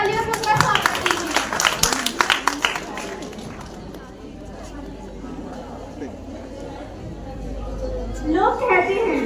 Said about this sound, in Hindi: जोरदार तालियों से उसका स्वागत कीजिए